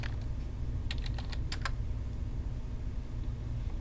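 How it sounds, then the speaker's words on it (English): Quick bursts of keystrokes on a computer keyboard while entering values in CAD software, a short cluster of close, crisp clicks followed by a quiet room hum. "you got to type in the height of the text"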